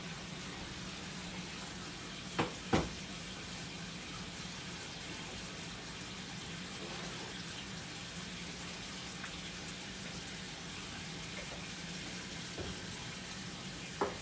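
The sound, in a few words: corned beef hash with country ham sizzling while slow cooking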